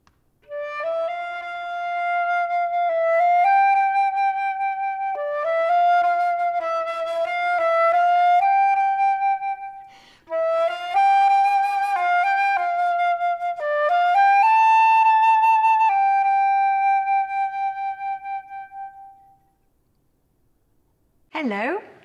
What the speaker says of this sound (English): I play the flute, which sounds like this.